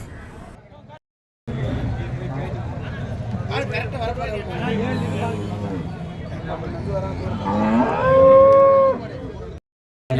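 Cattle at a market, including a large hand-milked cow, moo loudly and repeatedly with a long drawn-out call near the end, over a busy crowd babble and people talking.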